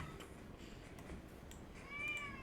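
A cat meows in the video game The Battle Cats, one short rising-falling call near the end over a faint, quiet background.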